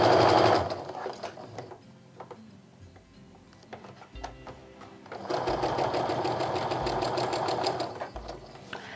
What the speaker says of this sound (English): What I just do is I lift up the press foot a little bit and slide the next piece down and keep on sewing.